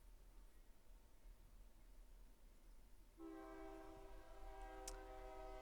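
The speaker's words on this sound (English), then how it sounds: "Sorry if you hear the fucking train in the background." A train passing in the background, its horn starting abruptly as a sustained harmonic blast that holds steady, faint and distant against low rumble.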